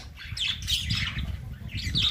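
Australian budgerigars at a breeder's aviary give a few sharp, close squawks and raspy chirps in quick bursts, with no voices over them.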